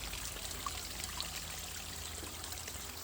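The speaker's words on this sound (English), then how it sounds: "And here's our stream." A small backyard stream in a mostly native garden in Portland trickles quietly, a faint continuous babbling wash with no voices.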